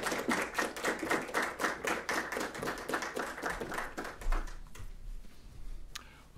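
An audience in a conference room welcomes a speaker with steady, many-handed applause that slowly fades into scattered claps and room quiet.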